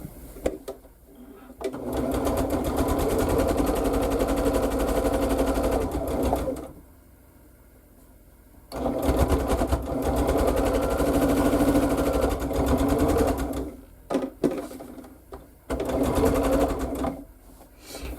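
A sewing machine stitches quilt sections together in loud sustained runs, pausing several times between seams and then starting again in shorter bursts toward the end.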